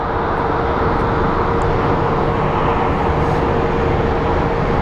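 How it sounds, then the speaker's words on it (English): Southwest airliners arriving at Phoenix Sky Harbor airport give a steady, loud broadband roar of jet engines that holds evenly throughout, with no talk. "A lot of Southwest planes coming in right now."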